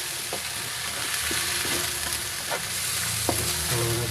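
White onions sauté with beef in a pan, giving a close, steady sizzle with light spoon scrapes and taps at intervals, and no voices.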